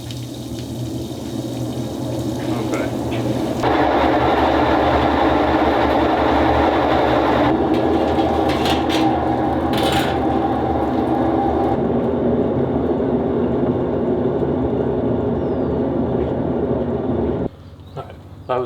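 A belt-drive, fully suspended washing machine drains and spins, giving a loud, steady rumble with running water and mechanical churning that shifts partway through, then stops abruptly near the end.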